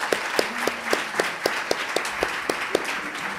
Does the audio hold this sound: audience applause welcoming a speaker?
yes